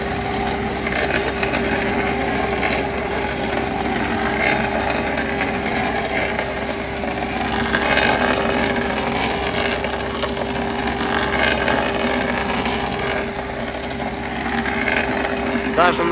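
A compact Avant loader running a Dipperfox SC400 stump grinder drones steadily with a grinding, rasping roar, constant and fairly loud throughout, with faint voices mixed in, at an agricultural trade show.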